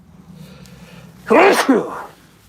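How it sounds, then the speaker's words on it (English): A single loud, close human sneeze from a man with springtime allergies, preceded by a quick inhale and followed by a short trailing breath. "I have to sneeze."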